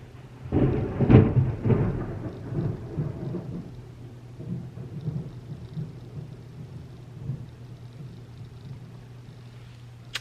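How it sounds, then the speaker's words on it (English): Thunderstorm with a loud rolling thunder burst early on, then decaying rumbles over a steady bed of rain, with a low constant hum underneath throughout. "The thunder is high-key horrifying, if I'm being very honest with you."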